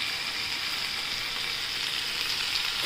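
Corn rice sautéing in a pan makes a steady, even sizzle at close range that holds at the same level throughout, with no talking.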